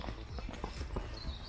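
A horse walks outdoors, its hooves clip-clopping in a steady, fairly close rhythm of repeated soft knocks, with no talking over them.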